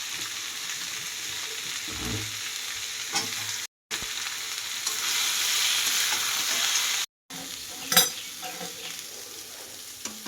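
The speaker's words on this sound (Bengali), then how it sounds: "এখন এই যে এইগুলো দিয়ে দেব, নাড়াচাড়া করব। আর সাথে এই যে বেগুনগুলো দিয়ে দেব।" Vegetables and eggplant stirred in a cooking pot, giving a steady close sizzle and scraping that runs through the clip, broken by two short gaps, with a sharper clatter near the end.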